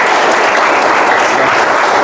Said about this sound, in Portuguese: palmas para ela mais uma vez